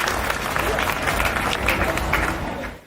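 A live audience applauds to welcome comedian Hemant Pandey from Kanpur, a dense, fairly loud clapping crowd with some murmur that carries steadily before tapering off at the end.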